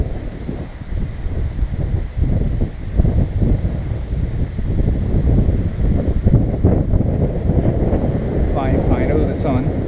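Wind buffets the microphone of a DJI Mavic 2 Pro drone flying into the wind, making a loud, low, rumbling roar with uneven gusty bursts throughout.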